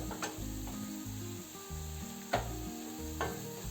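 Steady, close sizzling of pepper frying with onions in a pan, with a low droning hum running underneath throughout.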